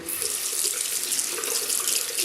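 Tap water runs steadily into a sink during a wet shave, a continuous close hiss and splash that stays even from start to finish with no talking.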